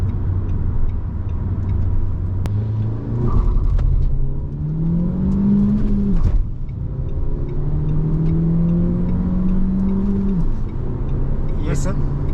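A 2021 Renault Kangoo engine rises in pitch twice as it accelerates, each rev climbing steadily before dropping off, heard from inside the vehicle.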